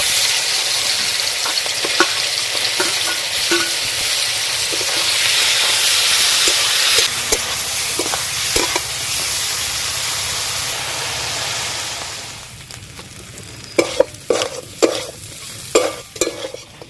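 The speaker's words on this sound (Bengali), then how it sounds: "এবার চিংড়ি মাছগুলো ভেজে নেব।" Prawns fry in mustard oil in a wok over a stove, a loud continuous sizzle and hiss, then quieter frying punctuated by several sharp clinks and scrapes of stirring near the end.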